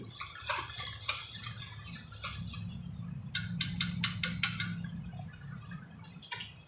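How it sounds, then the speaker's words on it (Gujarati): A spoon scrapes and clinks against a pan while almond halwa mixture is stirred with milk, giving a run of sharp metallic taps over a low steady hum. "હવે દૂધમાં આપણે સરખી રીતે મિક્સ કરી દેવાનું"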